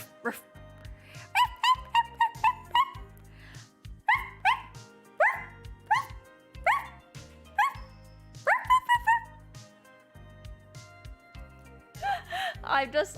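A person mimics a chihuahua with rapid, high, yappy yips in quick bursts, pausing briefly between clusters, a close, lively vocal imitation of a small dog.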